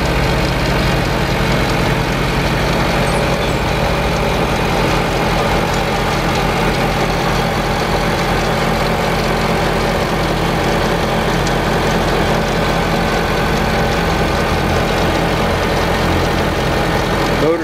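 Steady low rumble of a 2008 Honda Civic 1.8-liter engine idling at an auto salvage yard, an even, continuous hum with a faint mechanical whir, loud and close for the whole stretch, no voices over it.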